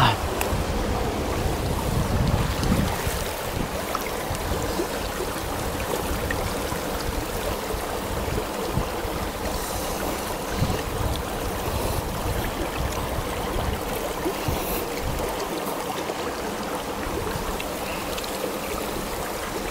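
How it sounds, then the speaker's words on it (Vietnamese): A cool mountain stream flows steadily near a remote La Hủ village, a broad, continuous rush of water up close with some wind buffeting the microphone. "Ui, cái suối này mát thật."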